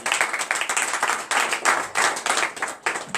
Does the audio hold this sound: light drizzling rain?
no